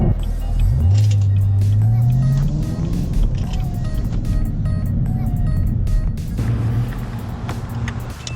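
A Camaro ZL1 launches hard, its engine note rising in a loud sweeping climb over the first couple of seconds, then settling into a steady roar with another brief surge near the end, with a voice speaking intermittently over it.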